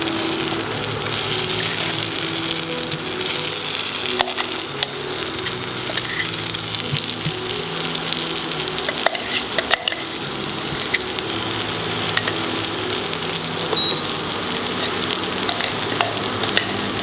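Recheado masala fries in coconut oil over a lowered flame, a steady dense sizzle with occasional stirring scrapes and crackles running throughout, close and fairly loud, with no voices.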